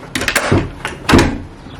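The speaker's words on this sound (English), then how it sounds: "that's the front door when you walk in" A hotel room's front door on a honeymoon stay in Greece, heard as two close, fairly loud thuds and clunks of the door moving and latching, a short moment apart, with no talking.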